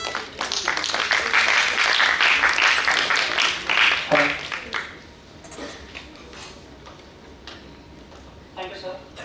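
Audience applause in a hall at a national defence conference, a burst of clapping that fades out midway, leaving quieter room noise and a few scattered claps near the end.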